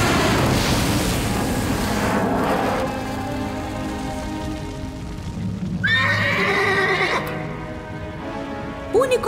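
A cartoon fire unicorn neighs in a high, wavering whinny after a stretch of rushing ambient sound, followed by a short second whinny near the end.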